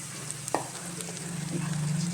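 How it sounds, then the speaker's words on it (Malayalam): Koorkka (Chinese potato) sizzles and fries in a hot pan, with a soft steady crackle and a brief stir or clatter partway through, growing slightly louder toward the end. "ചൂടായതിന് ശേഷം നമ്മൾ ആക്കി വെച്ചിരിക്കുന്ന കൂർക്കയില്ലേ അതിനകത്തോട്ട് തട്ടി കൊടുക്കണം"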